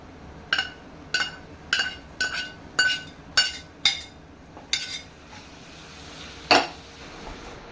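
A metal spoon clinks repeatedly against a pan as boiled val beans are added to fried masala, about eight quick taps in an even rhythm, then a pause and one last louder clink.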